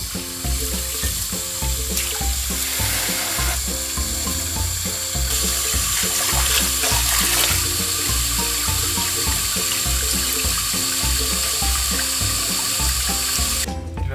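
Seachem Purigen filter resin is rinsed under running tap water, a steady loud rush of water that continues for the whole stretch, with a low rhythmic pulse underneath and no voices.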